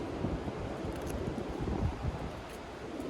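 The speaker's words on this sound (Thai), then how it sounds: "ลมแรงมากพี่น้อง" Strong wind roars steadily through a forest while mushrooms are being gathered, a dense continuous rushing with faint rustling and no voices.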